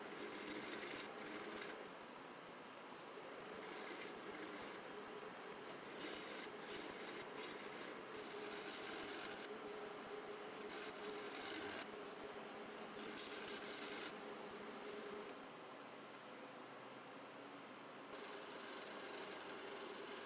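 A wooden bowl spins on a lathe as a tool cuts the outside, the cut alternating between edge grain and end grain. A continuous, close scraping hiss with a fast, even chatter runs throughout, dipping briefly near the end.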